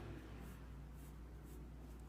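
A pencil sketches arcs on paper while drawing a cartoon superhero figure, giving several soft, close scratchy strokes in a steady rhythm roughly every half second over a low, quiet background hum, with no voices.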